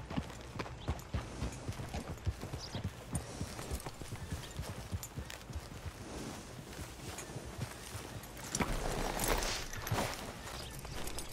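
Horse hooves clip-clop at a walking pace in Red Dead Redemption 2, a steady run of close, moderately loud hoof strikes on a dirt path, with a brief swell of ambient noise near the end and no voices.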